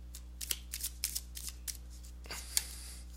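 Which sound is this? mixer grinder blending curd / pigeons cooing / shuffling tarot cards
shuffling tarot cards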